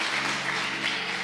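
A church congregation applauds, a dense steady wash of many hands clapping together, filling the room without pause.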